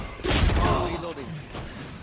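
A weapon reload in the tactical shooter Valorant: a short run of mechanical clicks and a thump, close and moderately loud, mixed with a brief spoken voice line and game sounds.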